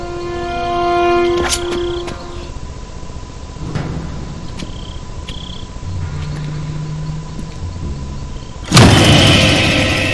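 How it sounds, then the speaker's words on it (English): A vehicle engine in the Metal Gear Solid 3 video game idles with a steady hum, then winds down and cuts off within a couple of seconds, leaving a quiet bed of night insects chirping and a sharp noise near the end. "Cut the engine."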